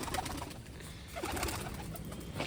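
Pigeons kept in pairs at a Tarn Taran pigeon club coo softly and repeatedly, a faint, low murmur against background hiss with no voices.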